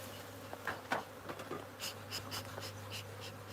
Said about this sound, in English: These bees are a bit nanksy, but they do the job.